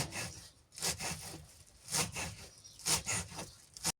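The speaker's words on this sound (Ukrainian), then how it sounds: "тепер беремо зелену цибульку, ріжемо її міленько" Green onion being finely chopped with a knife on a board while preparing a herring appetizer, a series of close, crisp strokes coming in short uneven bursts with brief pauses between them.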